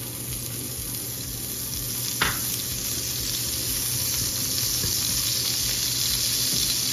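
Butter and cooking oil sizzle in a hot kawali, a steady close frying hiss with one brief click partway through and no talking.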